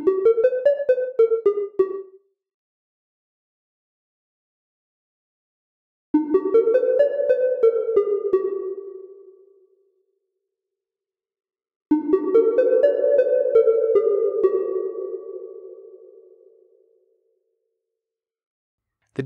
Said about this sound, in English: The decay knob sets how quickly the reverberated signal diminishes. Here are some examples of it at min,